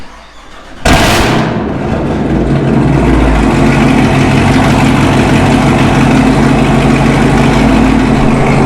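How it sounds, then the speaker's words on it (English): A modded Camaro ZL1 fires up on a warm start with a sudden loud bark, then settles into a heavy, rumbling idle that stays loud and steady throughout. "we're gonna give y'all a warm start, which is still crazy loud"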